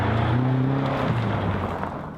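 A BMW M5 cruising in high gear on the Autobahn gives a steady, low, sonorous engine drone with deep humming tones that hold for the whole stretch, close and even, with no talking.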